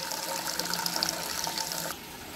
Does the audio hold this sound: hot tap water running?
yes